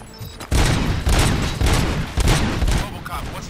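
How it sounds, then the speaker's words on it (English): Bursts of rapid gunfire in the game RoboCop: Rogue City crackle and boom in heavy, overlapping volleys, loud and close, with a voice faintly mixed underneath. "Gunshots? What's going on?"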